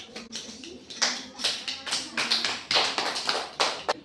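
A group of children claps hands in a classroom, a quick run of close, sharp claps with a steady rhythm lasting a few seconds.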